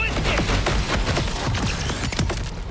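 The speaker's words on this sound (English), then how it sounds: "It's a boom turret." Boom turret firing in Borderlands 4 on PC, a rapid burst of sharp repeated blasts and thuds packed close together, loud and dense across the whole moment.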